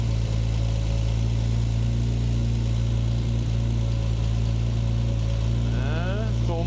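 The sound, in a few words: Triumph TR6 engine idling with fuel injection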